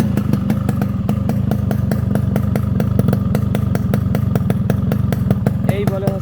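A modified Yamaha RXS 115 motorcycle engine runs steadily up close, its rapid regular firing pulses holding a constant pitch with a faint clatter and a brief voice near the end.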